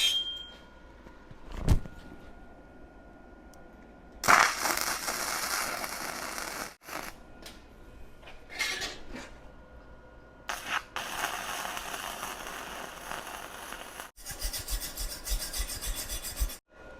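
Slag is cleaned off a fresh weld made with a Sefaspe 135E 3-in-1 welder in a few bursts of harsh, close scraping and rasping, separated by short quiet gaps.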